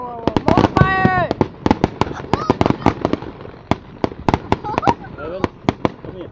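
Fourth of July fireworks and firecrackers burst in a fast string of loud, sharp bangs, with whistling rockets rising between the blasts while people shout and talk nearby.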